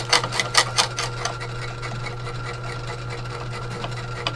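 A small ore crusher chunks away at ore, its rapid rattling impacts loud at first, then settling into a steady mechanical grinding over a low motor hum.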